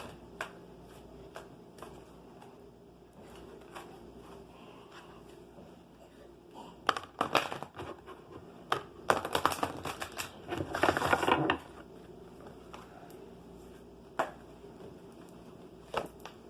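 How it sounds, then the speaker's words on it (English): Large tarot cards being tossed onto a floor, giving a run of soft papery slaps and shuffling rustles that swell into denser flurries midway, with scattered isolated flicks before and after, close and fairly quiet with no talking. "Throwing cards on the floor."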